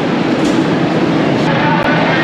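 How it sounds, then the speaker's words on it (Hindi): Green Line express train pulling out of Lahore Junction railway station, heard from inside a coach as a loud, steady, continuous rolling rumble and hiss lasting throughout. "6 डाउन ग्रीन लाइन अपने मुकर्रा वक्त पर लाहौर जंक्शन रेलवे स्टेशन से चल पड़ी है"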